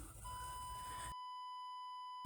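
A single steady electronic tone from a Spider-Man video game holds under a noisy background, then continues alone and clean after the background cuts to silence.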